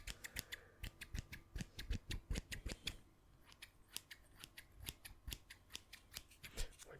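Scissors snip through rock tape in quick runs of crisp, close clicks, a burst of rapid cuts followed by slower, spaced snips, faint and intimate with no talking.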